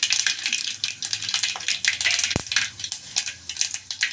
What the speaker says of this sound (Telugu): ఆయిల్ హీట్ ఎక్కింది కొద్దిగా జీలకర్ర ఆవాలు వేసుకుంటున్నాను